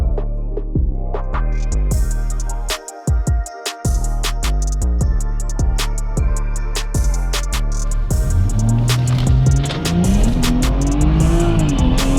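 A diesel BMW racing car engine roars close by, revving hard through repeated gear shifts with a brief dip, then a rising high whine near the end.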